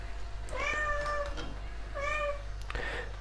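A house cat meows twice, two drawn-out cries spaced about a second apart, close and clear over a steady low kitchen hum with no talking.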